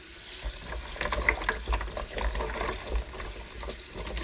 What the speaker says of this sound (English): throw them into some cold water